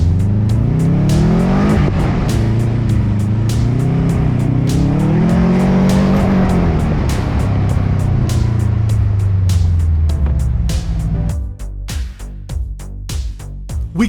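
A Subaru Forester travels over a rough off-road track near Mungo Beach, its engine note rising and falling amid repeated sharp knocks and bumps, loud and close throughout, with the roughness easing toward the end.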